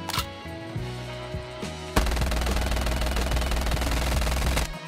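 Gunfire in Call of Duty Mobile, a rapid automatic burst of shots fired steadily for about three seconds after a short stretch of game music and menu tones, loud and close with no talking.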